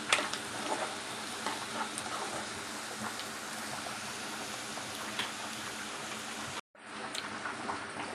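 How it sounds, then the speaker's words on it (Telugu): Onion, green chilli, curry leaves and dried red chilli fry in hot oil with a dense, steady sizzle and crackle, loud and close, briefly cutting out before resuming. "ఉల్లిపాయ, పచ్చిమిర్చి, కరివేపాకు, ఎండుమిర్చి అంతా బాగా మనం ఫ్రై చేసుకోవాలి"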